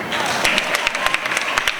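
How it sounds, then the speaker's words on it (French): Audience applause at a school competition final, a steady wash of clapping hands running under a speaking voice for the whole stretch. "Vous applaudissez s'il vous plaît."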